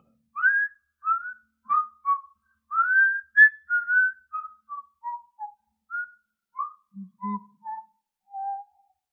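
A person whistles a simple melody alone, clear pitched notes in short phrases that gradually drift downward, with small gaps between them.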